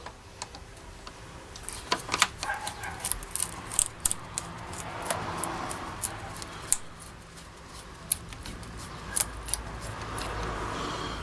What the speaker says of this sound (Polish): Ja zawsze odłączam tą rurę od turbo. Odkręcam opaskę